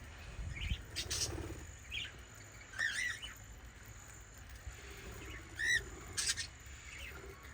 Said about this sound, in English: Now we're in the small parrot aviary.